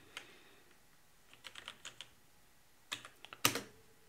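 Keys tapped on a computer keyboard while code is typed in the Emacs editor, sparse clicks in small clusters that end in a louder burst of quick strokes near the end, all in a quiet room.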